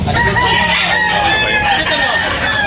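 A rooster crows loudly and close at a busy chicken market in Tabunok, Talisay, with clucking fowl and crowd noise filling the background throughout.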